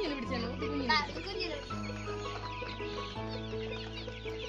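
Chickens clucking at a small poultry farm, a steady fowl chatter running throughout beneath people talking, with a low hum in the background.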